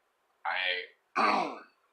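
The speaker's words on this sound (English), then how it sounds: "I'm trying to clear my throat here" Two rough throat clearings, each about half a second, separated by a brief pause, close and fairly loud with no talk.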